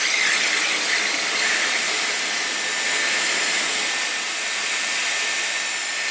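A Dyson Airwrap hair styler blows air steadily while curling hair, a constant, close, loud whooshing hiss with no break and no voices.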